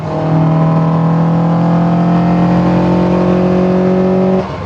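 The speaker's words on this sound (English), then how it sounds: "This engine just sounds so good running it wide on the throttle." A Toyota AE86 four-cylinder with individual throttle bodies and a Fujitsubo exhaust revs at wide-open throttle, a loud steady droning wail climbing slowly in pitch before cutting off abruptly.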